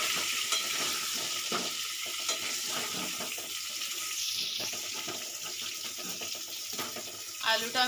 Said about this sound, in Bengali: আলুটা আমি 2 মিনিট এরকমভাবে ভাজতে দেব